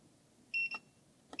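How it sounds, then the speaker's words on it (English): An aftermarket oil pressure gauge on a turbo kit install emits short electronic beeps: a clear double beep, a pause, then another beginning beep, quiet and close with faint background hum. "it now beeps as a setting"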